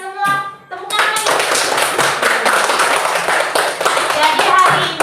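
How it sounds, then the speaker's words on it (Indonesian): Third-grade pupils clap together in a primary school classroom: a dense, loud burst of many hands that starts after a short moment of a voice and keeps going close by to the end. "Tepuk tangan untuk kalian semua. Tepuk tangan lagi."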